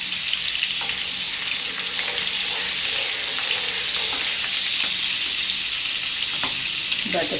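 Butter sizzles loudly and continuously in a frying pan, a dense close hiss with faint scattered pops and a spatula scrape near the end.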